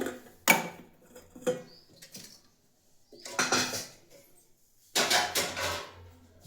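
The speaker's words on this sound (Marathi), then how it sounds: "भांडी भरपूर घासायची" Dishes are scrubbed and washed in a home kitchen sink, with bursts of clattering pots, plates and utensils and running water separated by brief pauses, close and fairly loud.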